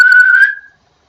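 A guard's whistle blast, imitated by a human voice whistling: one steady, shrill tone held for about half a second and then fading out, close and alone.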